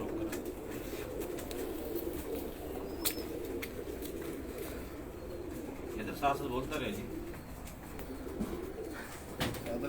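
UAE pigeons coo steadily in the background while someone talks over them nearby, amid general outdoor ambience.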